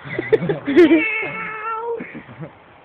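A cat gives a couple of close, drawn-out meows, the second long and rising, with faint voices and movement around it.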